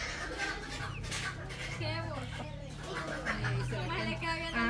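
Chickens and roosters cluck on a small chicken farm, close and intermittent beneath people talking.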